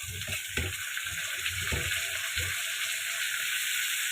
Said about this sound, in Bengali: আলুটাও ভাজবে, এটাও ভাজবে।